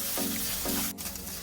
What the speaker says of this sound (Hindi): हमने एक पैन लेना है जिसमें हमने 2 चम्मच घी या ऑयल डालने हैं, जिसके अंदर हम 1 पाउल श्रेडेड चिकन डालेंगे और इसको अच्छे तरीके से हमने भूनना है